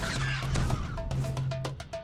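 Hostile birds in the fantasy game DDO squawk and honk in a rapid series of harsh, repeated calls over a steady game ambience, close and fairly loud.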